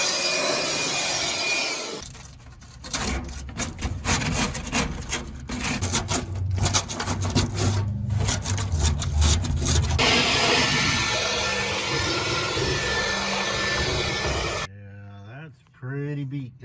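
Loose rust being scraped and chipped off the rusted-out underside of a smoker, a steady rough grinding scrape with dense rapid strokes, loud and close, ending in a brief muffled bump.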